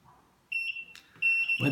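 Commercial eight-channel kitchen timer signalling that time is up, two short bursts of high steady beeping, fairly faint and close, followed by a clatter.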